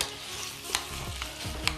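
Half a kilogram of minced meat fries in a pan, crackling in a steady sizzle while a utensil stirs and scrapes through it in a few distinct strokes.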